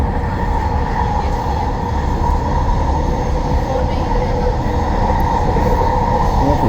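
Riding aboard an eastbound SkyTrain metro train in the Vancouver area: a continuous low rumble of wheels and motors, steady and close, with a faint tonal whine.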